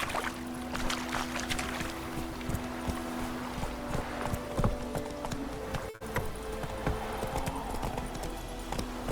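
Roach, the horse in The Witcher 3: Wild Hunt, gallops with a rapid, regular clip-clop of hooves, loud and close, over a dense bed of ambient game sound.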